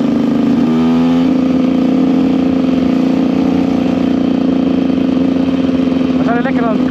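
A KTM EXC 125 dirt bike engine revs up sharply near the start, then holds a loud, steady buzzing drone, with another rising rev just before the end.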